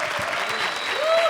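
Loud audience applause on a comedy show stage, a dense burst of clapping filling the short moment, with a faint tonal whistle riding over it.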